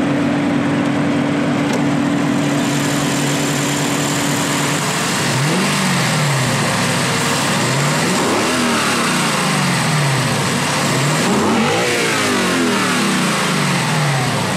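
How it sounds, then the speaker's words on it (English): A 2018 Lexus LC500 with its 5-liter dual overhead cam 32-valve V8 idles loudly close by, then gets blipped in three or four rising and falling revs, with no talk. "Under the hood sits a 5-liter dual overhead cam 32-valve V8"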